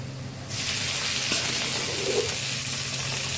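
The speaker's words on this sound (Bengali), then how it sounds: "মরিচ পেঁয়াজ ভাজা, এখন দিয়ে দেবো।" Taro greens hit hot oil with fried chili and onion, setting off a sudden loud, steady sizzle that holds close and even to the end.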